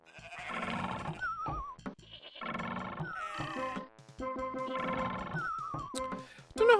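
Repeated wavering goat bleats in the Super 3D Noah's Ark game, a DooM-engine mod, about three bursts spaced a couple of seconds apart over busy game music, moderately loud.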